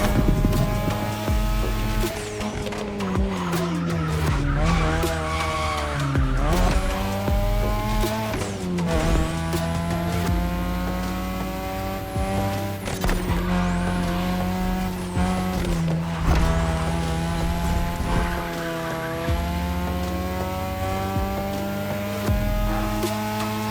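Cars drifting in The Crew Motorfest, a racing video game, with engines revving and rising and falling, long wavering tire squeals through the turns, and a loud continuous roar with no talking.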